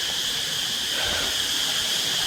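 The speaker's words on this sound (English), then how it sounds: "this is the sound of the forest." Forest ambience at a resort, a steady dense chorus of crickets or insects trilling continuously with a constant hiss, no voices.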